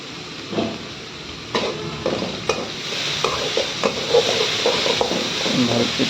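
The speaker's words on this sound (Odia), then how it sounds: "ଟିକେ ଭାଜିବା ତାକୁ।" Egg curry ingredients fry in hot oil, a constant sizzle broken by several sharp clanks and scrapes of a spoon stirring against the pan, close and fairly loud.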